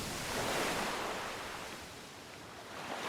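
Steady ocean waves and surf from the fishing video game Dredge, a loud continuous broadband wash with slow swells, heard alone with no voices.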